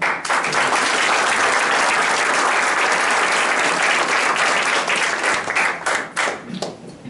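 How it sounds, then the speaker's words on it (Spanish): Audience applause at a book presentation welcoming Víctor Rubido, a dense, loud wash of many hands clapping together that holds steady for several seconds and then thins out into a few scattered claps. "para quien también les pido a todos ustedes un aplauso"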